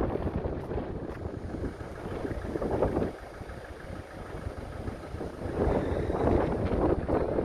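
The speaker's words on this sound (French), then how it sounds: "Il y a pas mal de vent, j'espère que on l'entend pas." Steady wind buffets the microphone at a harbor in gusty low rumbles, rising and falling over several seconds, with a faint engine-like hum in the background and no talking.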